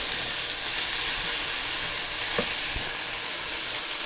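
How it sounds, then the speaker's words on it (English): Chopped celery sizzles in a pan over medium-high heat, a steady close hiss of frying with a couple of faint knocks from stirring. "Celery goes in, and we'll let it go for a minute or so that the celery can soften up and"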